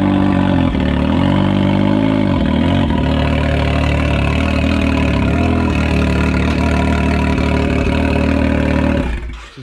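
A straight-piped Can-Am Maverick X3 turbo engine idles loud and close with a steady, rumbling, uneven burble that continues for almost ten seconds before cutting off at the end.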